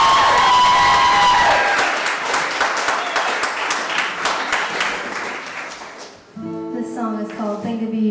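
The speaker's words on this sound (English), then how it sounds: "Give her a round of applause." Audience applause and some cheering for a singer, thick crowd clapping that slowly thins out and dies down, then a voice begins speaking near the end.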